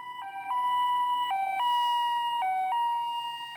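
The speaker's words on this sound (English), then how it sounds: "the pitch of the car's siren gets higher as it approaches because the intervals between the arriving wavefronts are shortened" A police car siren wails loudly in a two-tone pattern, stepping repeatedly between a higher and a lower pitch, heard alone with no voices.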